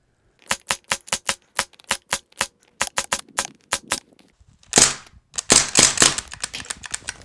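A CO2 air gun with low gas fires a string of about fourteen sharp, evenly spaced shots striking a wooden target trap, followed by a louder clattering rattle of impacts.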